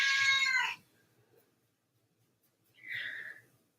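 A pet cat meows twice indoors during a home yoga session, a loud, bright cry at the start followed by a shorter, softer meow after a pause of quiet.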